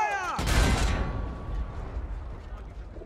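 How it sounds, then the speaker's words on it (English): In the video game Battlefield 1, an artillery piece fires a single heavy, close blast that rolls off into a long rumbling decay, preceded by a brief tonal whine. "All artillery! Fire!"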